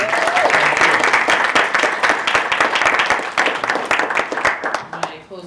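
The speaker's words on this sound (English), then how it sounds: "Can we extend just one more round of applause thanking Dr. Sue?" An audience applauds Dr. Sue at a lecture event: dense, sustained clapping from a full room, loud and steady, with scattered voices mixed in before it thins out at the very end.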